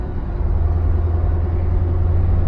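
Cars queue in traffic on the road to Rotterdam, a steady low engine rumble close by that swells slightly at the start, with no voices.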